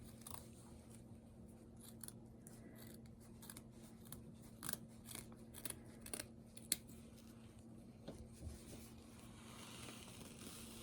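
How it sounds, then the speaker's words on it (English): Scissors snip repeatedly through twine while trimming a no-sew hunter gnome craft, a run of quiet, irregular close cuts over a steady low hum in the room. "you want to take and you want to trim it down quite a bit"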